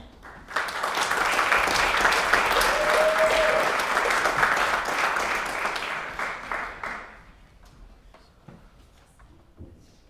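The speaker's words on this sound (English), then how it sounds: "Another round of applause for Jennell." Audience applause fills a room at an award ceremony, a dense burst of clapping that starts abruptly, holds steady for several seconds, then thins out into scattered claps.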